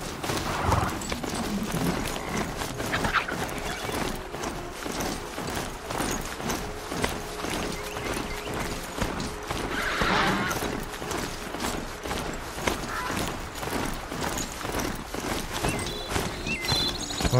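Horse hooves clip-clop steadily through Horizon Zero Dawn gameplay, with a brief whinny and some mechanical clanks rising over a continuous bed of game ambience and music.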